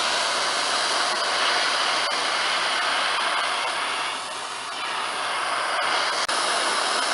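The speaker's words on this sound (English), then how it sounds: "I'm going to take a simple torch" A simple handheld torch heating a metal straw clamped on a rod in a vise produces a steady, loud roaring hiss that holds for several seconds, dipping briefly in the middle and then returning to full strength.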